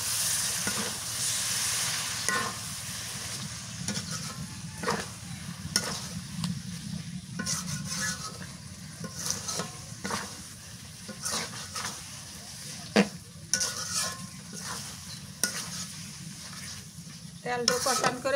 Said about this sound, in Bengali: মশলা কষানো হয়ে গেছে এখন তেল দিয়ে দিই